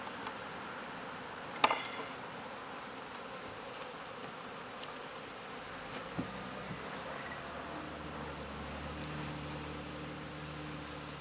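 A honeybee colony inside a Nat Hive gives off a steady, low, continuous buzz, close and even, with a couple of faint knocks and no speech.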